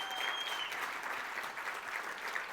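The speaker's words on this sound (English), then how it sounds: "Please give the Minister a round of applause" Steady applause from a crowd of teachers at an education awards ceremony, greeting the new Federal Education Minister; even, dense clapping with a faint tonal whine in the background, no talk.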